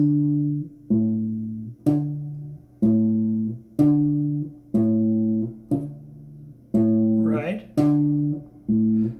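The guitar bass line of a song intro is played as a steady series of about ten picked low notes, each plucked and left ringing, close and clear, with a brief spoken word partway through.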